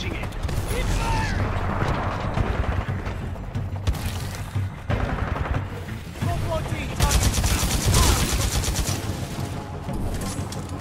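Sustained Titanfall 2 gunfire rattles on through a team fight, dense and loud across the whole stretch with machine-gun bursts, booming impacts and speech layered over the battle.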